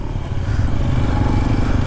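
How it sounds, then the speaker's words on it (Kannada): Hero Xpulse 210 motorcycle idling nearby, a loud, steady low exhaust thrum with a fast pulsing throb and no talk over it. "And what I really liked is the exhaust note."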